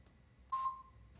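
A single short electronic beep from a wireless alarm siren rings out clearly against near silence, with a faint tail.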